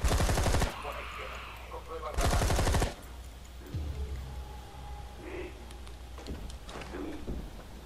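Two loud bursts of rapid automatic gunfire from a machine gun in the zombie video game ZombiU on Wii U, each lasting under a second, followed by quieter game ambience and faint sounds.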